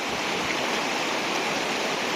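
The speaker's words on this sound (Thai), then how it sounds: "น้ำไหลแรงมากครับพี่น้องดูครับ" Floodwater from the Mun River rushes hard across a village road, a dense, steady roar of fast-flowing water with no pauses, close and loud throughout.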